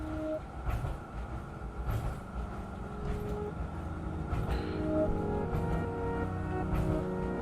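Train in the video game Necrobarista: a steady low rumble of rolling rail travel with a continuous droning hum and faint periodic clatter, building slightly in loudness throughout, with no voices.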